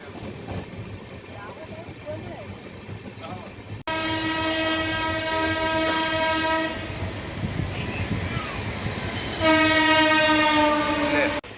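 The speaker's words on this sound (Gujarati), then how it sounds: "અમારી ટ્રેન દાહોદના રેલવે સ્ટેશને આવી ગઈ છે" The Indore–Daund Express pulls into Dahod railway station, its horn sounding in long harmonic blasts twice over a rumbling, clattering train, loud and close, with voices in the background.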